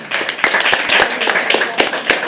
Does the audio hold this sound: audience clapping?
yes